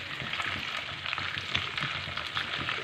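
Chicken frying over a low flame in a karahi, a steady close sizzle and crackle with faint stirring scrapes, running without a break and with no voices.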